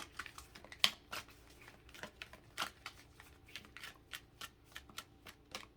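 Tarot cards being shuffled and drawn, giving a steady run of crisp, quiet riffling snaps and soft slaps at an even rhythm, close and faint, with no voices.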